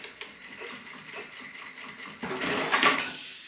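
A sewing machine runs a quick safety seam along the edge of fabric for a double-zip cosmetic pouch, starting with light ticks and handling noises, then a louder steady whirring burst of stitching near the end.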